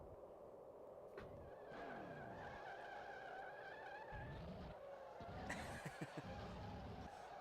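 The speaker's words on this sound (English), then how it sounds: "Tires squealing as they're stopped on the backstretch." Tires squealing as race cars brake to a stop on the backstretch in NASCAR Racing 2003 at Iowa, a faint, thin whine rising and falling under low engine noise, with a few quick squeals near the end.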